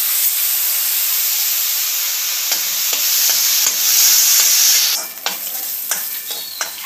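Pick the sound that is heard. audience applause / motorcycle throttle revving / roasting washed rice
roasting washed rice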